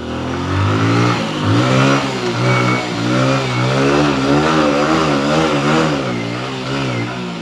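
A motorcycle engine revs loudly and close, its pitch rising and falling in repeated throttle blips over a rough mid-range drone.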